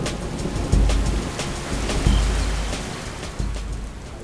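Thunderstorm with steady rain hissing on surfaces and three deep thunder booms from lightning strikes, each landing about a second and a half apart over the constant downpour, with no talk.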